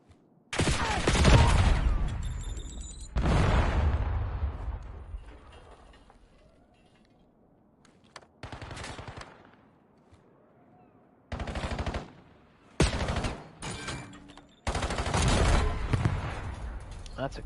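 Grenade explosions and bursts of automatic gunfire in a Black Ops 7 match sound loud and close in several separate blasts, with quieter gaps between them and a commentator talking.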